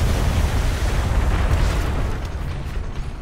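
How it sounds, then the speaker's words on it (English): Ship cannons fire a volley at an enemy ship in the game Atlas, a dense, continuous rumble of overlapping booms, loud and heavy throughout. "There's a large volley from my ship going to the enemy ship."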